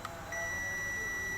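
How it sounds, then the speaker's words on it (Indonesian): A multimeter's continuity buzzer, testing a diode in the inverter section of a 60-inch Panasonic TV, starts a steady high electronic beep after a brief click and holds it without break, close and clear with no talk. "untuk bunyi buzzer"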